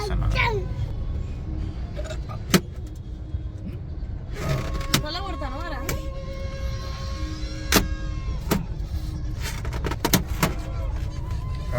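Heavy road traffic in Hyderabad rumbles continuously from inside a vehicle, with passing engines, several sharp horn honks and a wavering siren-like tone, while people talk over it.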